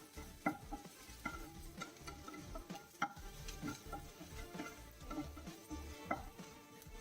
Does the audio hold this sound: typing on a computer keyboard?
no